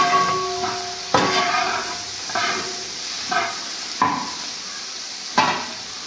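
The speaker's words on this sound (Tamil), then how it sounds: "வெங்காயம் போட்டு 2 நிமிஷம் போல ஆகுது." Onions fry in a pan for a potato and onion stir-fry, a constant hiss and sizzle with about five sharp scraping bursts as a spoon stirs them.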